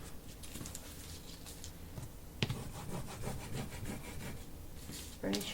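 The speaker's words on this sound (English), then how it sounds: "Burnish your chipboard really well." Bone folder or tool rubbing firmly over chipboard for a pocket-page mini album, a continuous scraping rasp with a sharp tap midway and a scuffing burst at the end.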